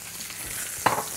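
Lamb frying at medium heat on a Scholtès MultiPlo induction hob, a steady close hiss of sizzling fat with a brief sharper spatter near the end, no talking.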